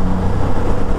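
Road traffic around a Kawasaki Z900RS motorcycle filtering between vehicles, a loud, close, steady rumble of engines and road noise filling the whole moment with no talking.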